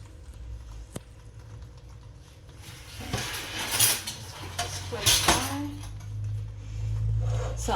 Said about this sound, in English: So I'm tilting my pot to the side to get a good coating. You can see I'm turning the apple in there